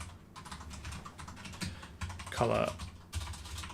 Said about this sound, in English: If you thought my typing was bad normally, you've yet to see this.